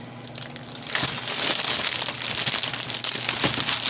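An A2 light pad is pulled free of its plastic sleeve and bubble wrap, with close, loud crinkling and crumpling that swells after the first second and continues steadily with no voices.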